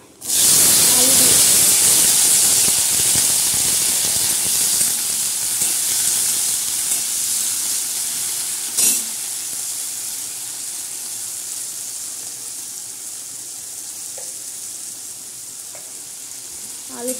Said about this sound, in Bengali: আলুটা একটু ভাজা ভাজা করে নেব।